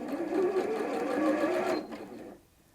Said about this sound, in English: I've also got the option on this machine to sew using the start-stop button.